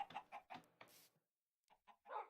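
A Minecraft chicken clucks in short, soft, repeated bursts, a run of three or four clucks followed by a pause and then a few more, quiet and with no speech over them.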